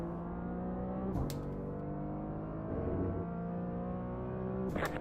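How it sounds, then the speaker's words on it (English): Race cars in an online endurance racing game roar past with steady engine tones, revving through gear changes as a faster car closes in and passes, no talk present. "Faster car coming up quick"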